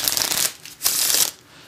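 A deck of playing cards being shuffled by hand, two brisk riffling bursts with a short pause between, close and clear with no talking.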